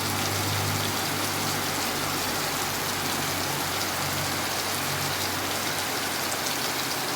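Heavy rain pours down steadily, a dense hiss of drops drumming on surfaces close by, with no voices.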